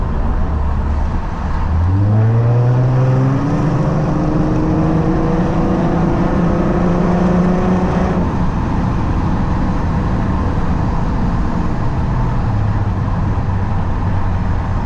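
A 13-year-old Lexus IS350 with its V6 exhaust pulls hard while driving, the engine note climbing steadily through the revs in a loud, rising drone heard from inside the car, then settling to a lower steady rumble with road noise.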